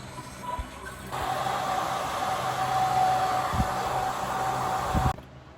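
A hair dryer blows with a steady, loud whooshing roar for several seconds, then cuts off abruptly.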